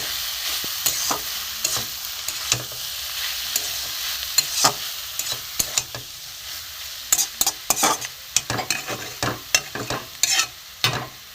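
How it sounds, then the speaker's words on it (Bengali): Coriander leaves being stirred into a dry prawn and radish dish in a pan. A soft sizzle runs underneath while a spatula scrapes and taps repeatedly, and the strokes grow busier toward the end. "আর এতে ধনে পাতা দিয়ে দেবো নেড়ে দেবো"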